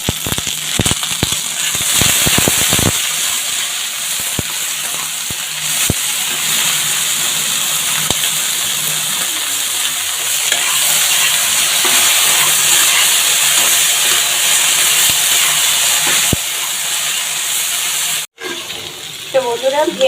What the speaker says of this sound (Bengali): ভেন্ডি ভাজাও কিন্তু আমার শেষের পর্যায়ে